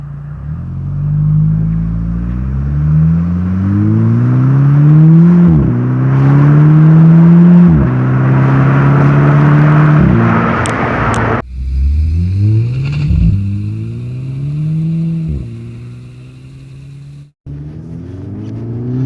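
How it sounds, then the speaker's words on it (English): A 2009 VW Golf GTI Mk6 with a BCS Powervalve exhaust revs repeatedly, each pull climbing in pitch before dropping off with a pop, loud and close, with brief cuts between bursts. "We have the Powervalve exhaust, as I mentioned earlier on."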